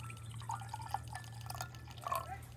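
Water poured into a chile pickling mixture of vinegar and salt, heard as soft trickling and dripping splashes over a steady low hum, moderately quiet with no talk.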